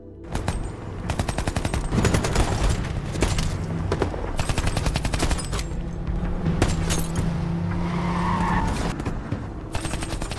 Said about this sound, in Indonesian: Diego pun mencoba menembaki mereka hingga terjadi lagi aksi tembak-tembakan.